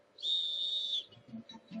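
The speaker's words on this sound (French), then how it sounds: "Se laisser guider par la voix du coach et le son du sifflet." A coach's shrill, steady whistle blast at a bootcamp workout, held for nearly a second, followed by faint, low voices and a couple of short high chirps.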